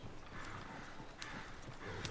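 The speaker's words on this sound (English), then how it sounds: "Is one of you going to get that fella's horse?" Horse hooves clip-clopping at a steady gait in the Red Dead Redemption 2 video game, with a few sharper hoof strikes standing out over a continuous ambient background.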